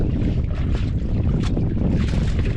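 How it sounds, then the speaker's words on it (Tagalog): Strong, steady wind roaring and buffeting close to the microphone, with a low rumble throughout and no voices. "mahangin na konti ah."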